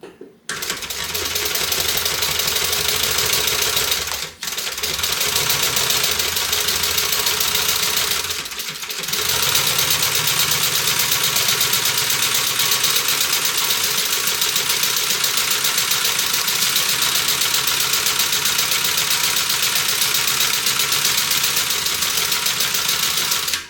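A sewing machine runs a long steady seam along the open side of a Julie tote bag, a loud close mechanical whirr with a fast rhythmic clatter. It stops briefly twice, then keeps going, and nobody talks.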